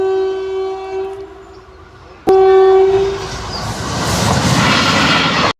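A train sounds a long, loud horn near a closed railway crossing gate in Coimbatore, a sharp jolt cutting in, then the rushing, rumbling clatter of wagons passing close by.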